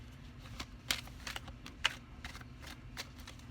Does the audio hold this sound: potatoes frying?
no